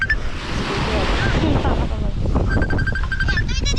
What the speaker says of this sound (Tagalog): Mahalakas yung alon.